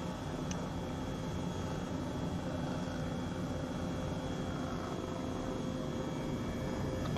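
Helicopter flying in Microsoft Flight Simulator 2020, a steady, loud, unbroken rotor and engine drone that holds an even level throughout with no talk.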